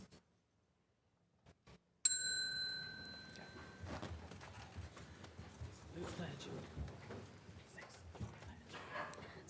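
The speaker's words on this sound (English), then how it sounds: "then when I ring the bell, then you can go with the flag salute" A bell rung at a city council meeting before the flag salute: a bright ding with a ringing tail cuts in sharply after near silence, followed by room noise, shuffling and people talking.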